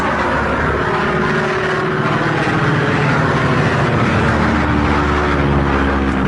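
A small airplane engine drones steadily through a storm as a radio drama effect, a continuous loud rumbling hum with no breaks and no voices.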